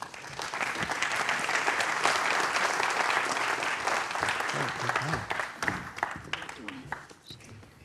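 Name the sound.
audience applause welcoming speakers to the stage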